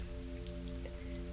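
Rain patters steadily during a thunderstorm, a soft continuous wash of drops with a faint drip, heard briefly against a low steady hum.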